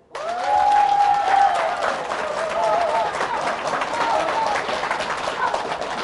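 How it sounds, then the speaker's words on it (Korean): Audience applause at a Saturday political lecture, a steady, loud crowd clapping sustained for several seconds, with a few voices calling out and cheering over it. "계속 반복된다고 생각하는 사람 박수"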